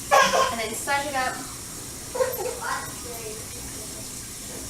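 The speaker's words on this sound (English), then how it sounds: "run some hot water on it." Hot water runs from a sink tap in a laundry setting, a steady hiss of flowing water throughout, under a voice speaking at the start and again midway.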